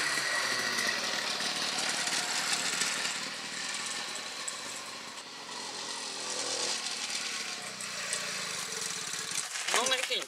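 A small engine with a short little exhaust runs on and on with a raspy, buzzing drone like a lawn mower, fairly quiet and uneven, with a sharp burst at the very end.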